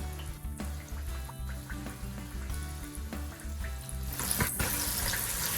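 Catfish frying in a pan of hot oil, a steady hiss and crackle of sizzling that swells louder toward the end, heard alone with no talking.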